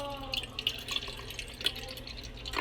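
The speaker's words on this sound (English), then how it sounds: "Take your can and your small container of water, and all you're gonna do is just pour it down in there." Water pours from a small container into an empty can, making a light trickling and dripping patter with small splashy spikes, faint and close over a steady background hum.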